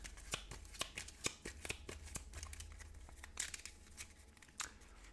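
Playing cards being shuffled during a tabletop card game, a brisk run of riffling and snapping bursts repeating every half second or so, close and fairly quiet, with no talk.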